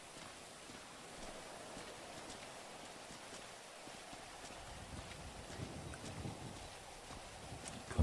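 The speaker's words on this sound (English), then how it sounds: "Here comes the rain." Steady rain falling in GTA V, a soft continuous hiss and patter with low rumble, moderately faint and unbroken, with no one talking.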